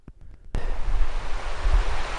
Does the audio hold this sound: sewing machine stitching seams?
no